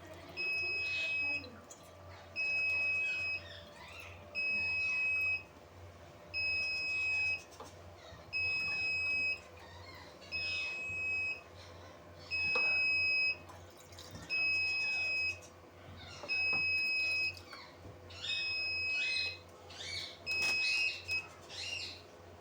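The humidity-sensor error alarm on an HHD Queen mini egg incubator beeps in regular bursts, two-tone electronic pulses repeating roughly every two seconds, with faint bird chirps and low background hum underneath.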